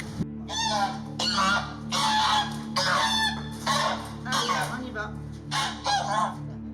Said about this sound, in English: It started to squawk